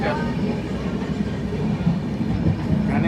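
A train rumbles along the rails with a steady low roar and faint rhythmic clatter, loud and continuous.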